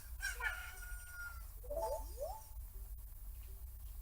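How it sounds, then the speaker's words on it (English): A freshly hatched chicken crows in a Zelda Hyrule Castle video game, a few rising, stretched calls standing clear over a steady low background hum, with no talking. "now our chicken's hatched, so we can go ahead and wake him up"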